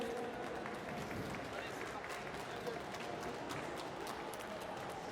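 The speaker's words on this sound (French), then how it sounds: "Veuillez les applaudir, s'il vous plaît." Crowd applause at the Japan Expo game show stage, a faint, steady wash of many hands clapping with no clear pauses.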